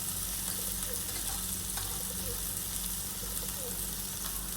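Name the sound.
okra being stirred and fried with spices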